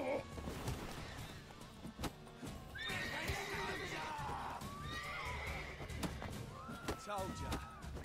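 Horses whinnying and neighing loudly in The Witcher 3, with several shrill, wavering calls over clip-clopping hooves, scuffling and thumps, close and prominent.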